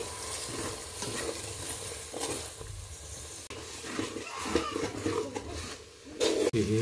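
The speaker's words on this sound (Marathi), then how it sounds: "सगळा मसाला एकदम हलवून घ्या मस्त" Masala fries with browned onions in a pan, a moderate sizzle broken by scraping stirs and clattering spoon knocks, fairly close and without speech.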